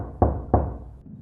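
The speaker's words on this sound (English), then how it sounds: "3 knocks on the front door." Two sharp knocks on a front door land in quick succession, loud and close, each with a short room decay, followed by quiet; late at night in a house.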